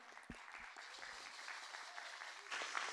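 An audience in a hall claps at moderate volume, a soft steady patter of many hands. It swells slightly near the end, with a few faint isolated sounds in the background.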